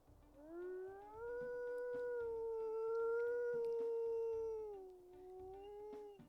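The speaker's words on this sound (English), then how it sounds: "we'll listen to his howls" A wolf howl from the video game WolfQuest: one long, sustained, wavering tonal howl that rises, holds steady and then slowly falls, clear and alone against a quiet background.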